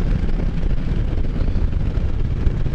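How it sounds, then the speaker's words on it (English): Strong, gusty wind blows outdoors on a gray day, a continuous heavy low roar buffeting the microphone with no voices. "It's extremely windy, it's gray, it's just disgusting out"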